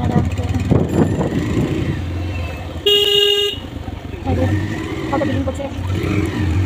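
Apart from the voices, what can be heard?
traffic on a market street with cars and horns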